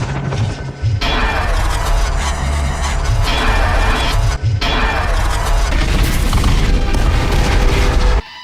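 A German ammunition stockpile explodes in a loud, dense blast that rumbles on with crashing, booming debris, pausing briefly before a second heavy explosion roars and continues, then cuts off abruptly.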